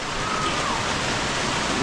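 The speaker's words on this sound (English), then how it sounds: "Raining for 4 straight days," Steady rain pours down during a days-long storm over a rice farm, a dense continuous hiss of drops, close and even with no break.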